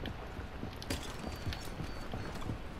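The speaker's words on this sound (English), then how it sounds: "I hear Someone's coming. Footsteps. Someone's coming." Footsteps of someone approaching in a video game, a steady run of hollow, clip-clop-like thuds at moderate distance with no voices over them.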